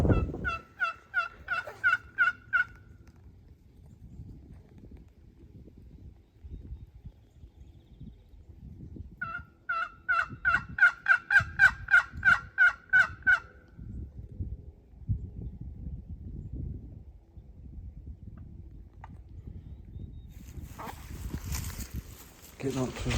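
Wild turkey gobbling in Wisconsin spring woods, two bursts of rapid, rattling gobbles with the second longer and louder, carrying from moderate distance over footsteps, rustling and low handling noise.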